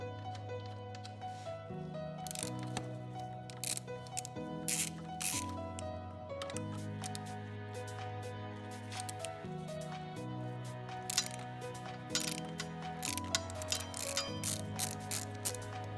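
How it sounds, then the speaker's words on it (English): A ratchet with a 12mm socket loosens the pinch bolts on a street bike, giving bursts of rapid metallic clicking in short strokes, close and clear over a steady low hum with no voices. "Take the 12mm socket and loosen both sides"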